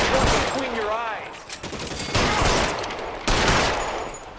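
Gunfire in an L.A. Noire shootout: loud bursts of shots crack over a dense, noisy mix, with a brief whistling tone and voices mixed in.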